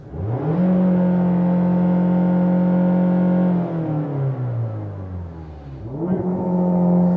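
Mazda Miata ND with an aftermarket exhaust revving, a loud steady high-rpm drone that holds for several seconds, drops and falls away, then climbs briefly again.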